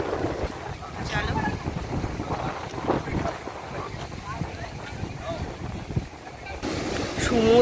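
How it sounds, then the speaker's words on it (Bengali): Sea waves along the coast at Diu roll and wash over gusty wind buffeting the microphone, the surf surging loud and near with a rising swell at the end, while people talk intermittently. "সমুদ্রে যা ঢেউ না"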